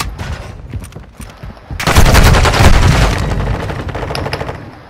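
Gunfire in Modern Warfare 2, starting with scattered quieter shots and then swelling into a loud, sustained burst of shooting and booms that slowly fades toward the end.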